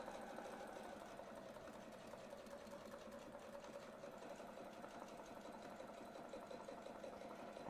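A domestic sewing machine stitches steadily around a circle template, a continuous close mechanical whirr with a rapid needle rhythm that runs unbroken throughout.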